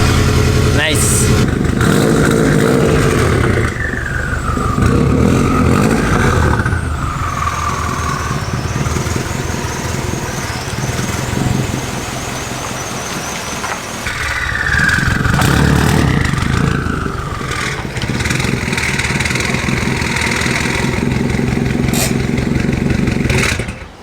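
Subaru car engine running as the car is driven out of a garage, a loud steady idle with two rising revs partway through, close to the microphone.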